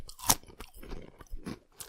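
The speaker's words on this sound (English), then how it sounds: "Very similar crunch factor to the other thin chip." Thin buffalo blue cheese potato chips crunch close up in a sharp bite, followed by a few quieter chewing crunches.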